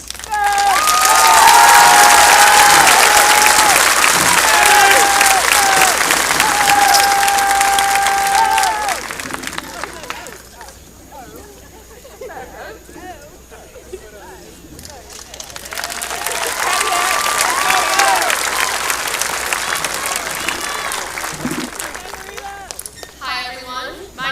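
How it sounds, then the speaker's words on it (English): A large audience at a high school commencement claps and cheers loudly, fades during a quieter stretch with murmuring and a voice, then swells into a second round of applause. "Please applaud"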